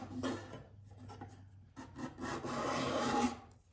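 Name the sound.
card scraper scraping interlocking wood grain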